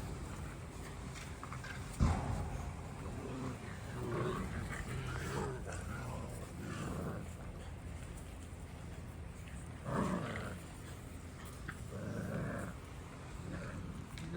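Six-week-old puppies playing outside, with scattered growls, yips and scuffling bursts at close range over a low background, and a brief sharp knock near the start.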